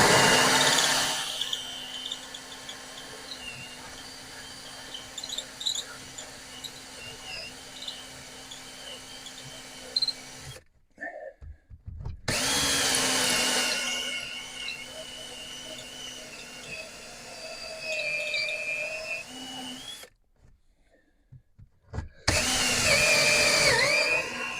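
A power drill grinds steadily through metal with a 7/8 inch hole saw while fitting a solar array to a converted school bus, running in long loud stretches broken by two brief pauses.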